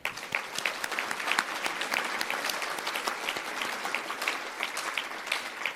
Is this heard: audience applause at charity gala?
yes